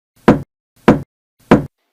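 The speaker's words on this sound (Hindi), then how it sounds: "दरवाजे पर किसी ने दस्तक दी।" Three loud, evenly spaced knocks rap on a door, sharp and close, each separated by clean silence with no voices.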